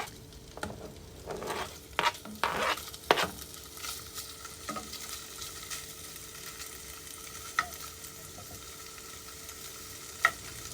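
Sliced sausages sizzle and fry in hot oil in a pan, a steady crackling bed broken by scattered sharp pops and a few louder stirring scrapes.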